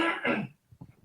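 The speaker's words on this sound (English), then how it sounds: "I have to clear my throat." A single throaty throat clearing in a studio talk show setting, a loud rasping burst in the first half followed by a few softer guttural catches, with no speech.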